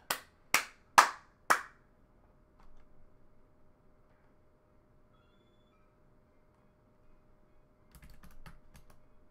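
Hands clap four times in a quick, even burst at the start, each clap sharp and close; afterwards only faint room noise and a few soft clicks follow.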